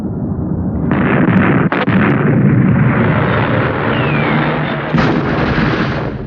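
Artillery bombardment during the siege of Leningrad makes a loud, continuous rumbling roar of explosions, broken by a couple of sharper bursts partway through.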